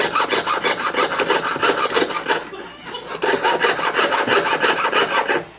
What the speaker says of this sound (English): You should take big long strokes with your saw.